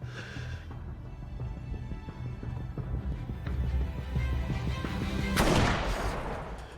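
A gunshot from the TV drama Roswell, New Mexico rings out as a single loud, sharp crack near the end, rising over a steady bed of dramatic music.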